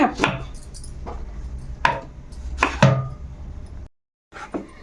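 Tomatoes and onions are chopped with a knife on a board. Four or five sharp, close chops land at uneven intervals, with a brief silent gap before a final few knocks.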